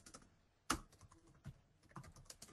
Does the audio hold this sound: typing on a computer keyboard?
yes